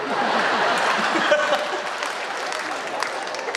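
Applause rises from the audience at an outdoor Holi festival comedy poetry gathering, a steady wash of clapping that gradually thins, with faint voices mixed in.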